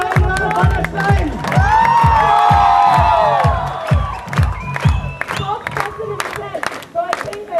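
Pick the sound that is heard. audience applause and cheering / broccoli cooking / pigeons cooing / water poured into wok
audience applause and cheering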